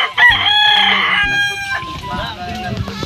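A rooster crows at a farmhouse, a loud drawn-out call with harmonic cries that fades out over about a second, followed by clucking and rustling with faint voices nearby.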